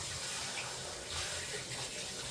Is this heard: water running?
yes